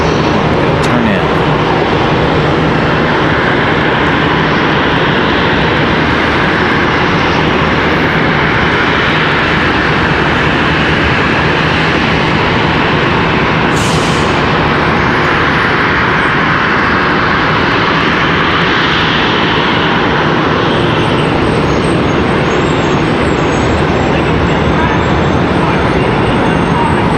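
American Airlines jet engines roar continuously at Charlotte Douglas airport, a loud sustained drone with a brief hiss midway and voices talking over it.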